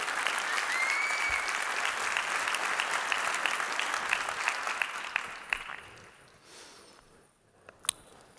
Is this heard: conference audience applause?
yes